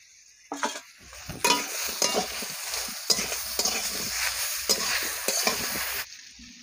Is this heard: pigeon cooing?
no